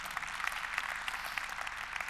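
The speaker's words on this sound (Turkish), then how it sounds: "Antepliler için bir alkış lütfen." Festival audience applauding for the people of Antep, a fairly faint patter of scattered hand claps with uneven peaks, heard alone.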